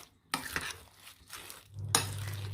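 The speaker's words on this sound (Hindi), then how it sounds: "इसको अच्छे से मिक्स करेंगे।" A spoon works through thick pakora batter mixed with onions in a bowl, giving a few close, wet slapping strokes with short quiet gaps between them.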